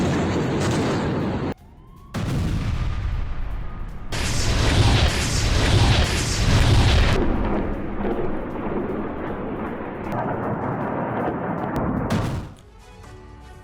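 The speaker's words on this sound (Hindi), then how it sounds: "इजराइल के कई शहरों में हमास ने बम बरसाए।" Heavy blasts and sustained roaring rumbles from bombing explosions as Hamas strikes Israeli cities, broad booming surges that swell and fade over several seconds, loud and without talking.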